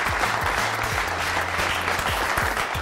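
A studio audience at a television talk show applauds in dense, sustained clapping that stays loud and even throughout, with no voices standing out.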